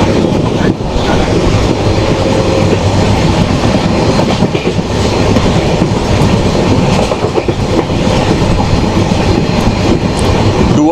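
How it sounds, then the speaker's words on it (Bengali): The Kanchankanya Express, train 13149, runs at high speed through the Dooars tea-garden country, heard from a First Class AC coach. A loud, steady rumble and rhythmic wheel clatter continue throughout. "ট্রেন এখন হেভি স্পিডে চালাচ্ছে"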